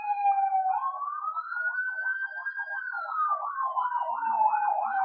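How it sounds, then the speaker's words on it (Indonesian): An ambulance siren wails loudly and continuously as the vehicle passes by, its rising and falling tone sweeping steadily from start to finish with no talk over it. "Ada ambulans lewat."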